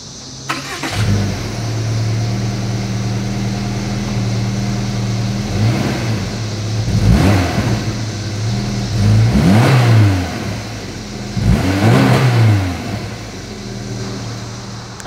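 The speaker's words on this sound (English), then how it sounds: "As always, here is that exhaust clip." A 2022 Subaru Impreza engine revs through its exhaust in several sharp, loud blips at regular intervals over a steady idle, heard up close with no talking.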